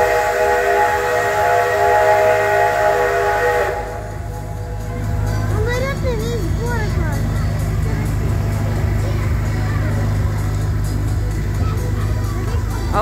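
Steam locomotive hauling the Santa Claus train in Perm gives a long, steady whistle-like tone, then a continuous rumble of steam and running gear, with people talking excitedly nearby.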